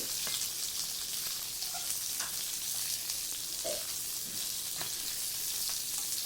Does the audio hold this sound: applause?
no